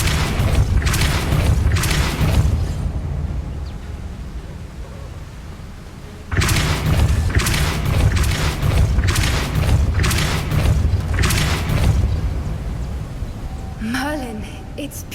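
In the Hogwarts Legacy video game, the Depulso spell is cast repeatedly, each cast a loud, punchy magical boom and whoosh in fast bursts over a rumbling game backdrop, ending with a brief tonal chime.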